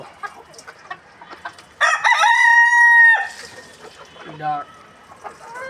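A rooster crows loudly once, with scattered clucking and hen chatter from native village chickens before and after.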